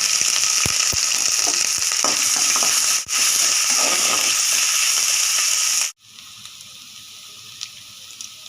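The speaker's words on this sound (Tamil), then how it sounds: "பூண்டு இஞ்சி பேஸ்ட் போடுறோம்" Garlic ginger paste fries in a hot pan for mutton masala fried rice, with a loud, continuous close sizzle that cuts down sharply near the end to a quieter, low hiss.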